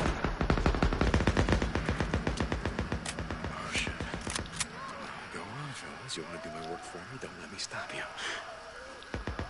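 Rapid automatic gunfire in the video game Days Gone, a fast run of loud, sharp shots that thins into a few scattered single cracks, with talk heard over it and game sounds continuing afterward.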